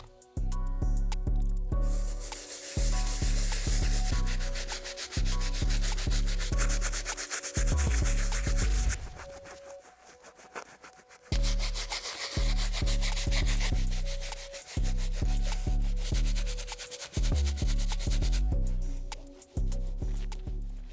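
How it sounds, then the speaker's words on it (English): Brass bristle brush scrubbing the soles of an Air Jordan 5 sneaker, a loud rough rubbing in repeated back-and-forth bursts of a few seconds each, with brief pauses between strokes and no talking. "I'm gonna be using the brass bristle brush to get the soles as clean as possible."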